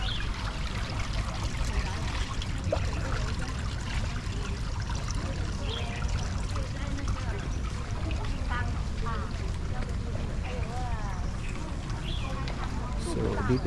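Hot spring at Sembawang, Singapore, with water flowing and trickling in a continuous, fairly faint wash, a voice talking over it now and then.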